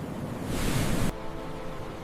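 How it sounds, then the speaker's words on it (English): Ocean surf at Reynisfjara's black sand beach, a single wave washing in as a broad, loud hiss that cuts off abruptly, leaving faint wind and low rumble behind. "When the waves hit the black sand, the scene automatically feels dangerous."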